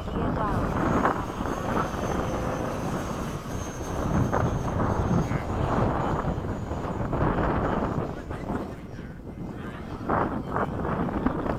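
Airplane coming in to land with gear down, a steady broadband engine drone and wind rush sustained throughout, while people talk over a radio-like exchange.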